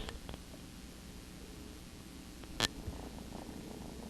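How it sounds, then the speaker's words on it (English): A cat purrs softly and steadily up close, a low continuous rumble with a brief rustle partway through. "You hear him purring?"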